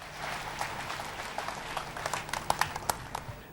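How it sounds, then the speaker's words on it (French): A church congregation claps at a healing service: a short, thin round of applause with scattered, uneven hand claps that grow a little sharper toward the end. "Applaudissons pour Jésus."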